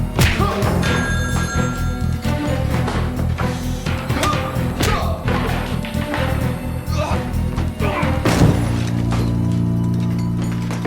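A telephone rings repeatedly in a noisy bar at closing time, the ringing mixed with steady music and background chatter throughout.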